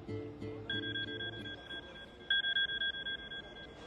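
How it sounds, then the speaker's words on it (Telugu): A telephone rings for an incoming call with two bursts of fast electronic trilling tones a moment apart, fairly faint, while other sounds quietly fill the background. "ఇదిగో మెసేజ్ వచ్చిన నంబర్ నుంచి కాల్ వస్తోంది"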